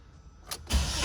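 A Fiat engine with a weak fuel pump cranks briefly and catches, a short starter whir giving way to a louder, steady running rumble, close and with no talk.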